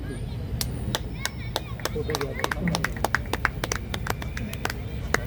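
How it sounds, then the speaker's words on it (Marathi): Loud audience applause at an inauguration ceremony in Manmad, marking the completion of a live painting of a girl carrying the Constitution; sharp, dense clapping runs steadily throughout over a background of crowd murmur. "एकदा जोरदार टाळ्या"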